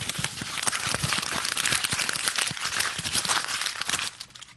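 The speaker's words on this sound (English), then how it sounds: "I'm gonna try crumpling." Paper or plastic being crumpled and crinkled by hand up close, a continuous rustling crackle that fades out at the end.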